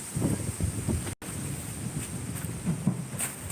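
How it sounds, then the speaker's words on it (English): Steady outdoor wind buffeting a microphone, a constant low rumbling gusty noise with a brief dropout, no talking. "Wind."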